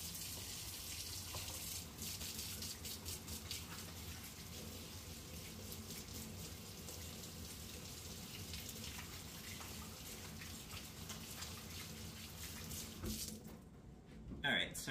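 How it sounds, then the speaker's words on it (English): Kitchen tap running steadily as someone washes their hands after kneading bread dough, with a constant hiss of water and a faint splash. The flow stops near the end. "desperately need to wash my hands"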